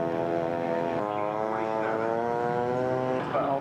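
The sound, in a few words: radio-controlled scale model airplane flying at an air show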